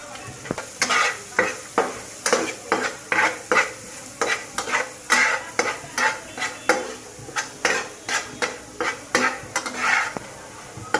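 Vegetables are stir-fried over low heat in a pan, with rhythmic utensil scrapes and clinks about once a second over a gentle, steady sizzle.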